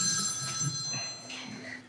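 A telephone rings with a sustained electronic bell tone, moderately loud, while low voices murmur underneath.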